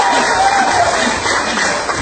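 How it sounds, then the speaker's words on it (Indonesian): An audience applauds at a leadership club seminar, a dense, loud wash of clapping from a crowded room that runs steadily throughout. "aplaus yang meriah Bapak Ibu"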